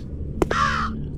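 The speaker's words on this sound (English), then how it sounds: "Why is there a crow in here anyways?" A crow caws once in the horror video game The Haunting: Root of Evil, close and clear, with a short burst followed by a drawn-out rasping call over a low ambient hum and no talking.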